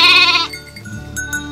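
A sheep bleats once on a farm, a loud close bleat lasting under half a second, followed by quieter farmyard background with faint bleats from ewes and lambs.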